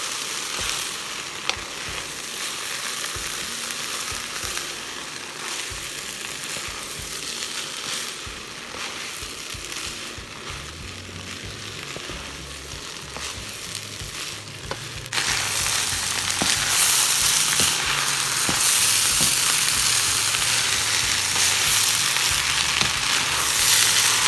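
Shrimp nasi goreng fried rice is stirred in a pot, a dense crackling sizzle with scraping, shuffling stirs that turns louder and brighter for the final stretch, with no talking.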